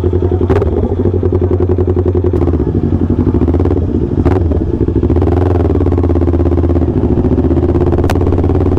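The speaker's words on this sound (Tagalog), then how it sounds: "Kapag parang naririnig ko na yung motor natin guys." Motorcycle engine running steadily throughout a ride on the Marilaque twisting mountain road, loud and close with a continuous throbbing drone and occasional clattering, with no talk.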